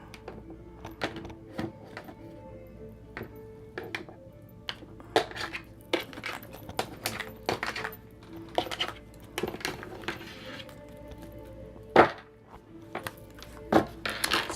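Cards from a reading deck being cut and handled on a table: scattered crisp slaps and shuffling taps, some isolated, some in short flurries, close and fairly quiet with no talking.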